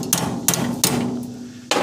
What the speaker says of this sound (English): I'm gonna tap it a little bit more with the hammer